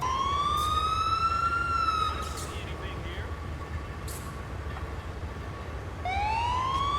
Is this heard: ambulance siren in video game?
yes